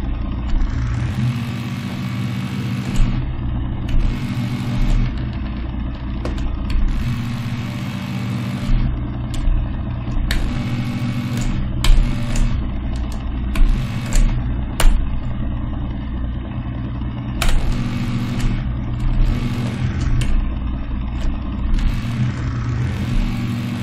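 Simulated sports car engine from an Unreal Engine 5 Chaos Vehicle setup, a steady synthetic engine drone with rising and falling rev tones over about 24 seconds, loud and continuous with no voices.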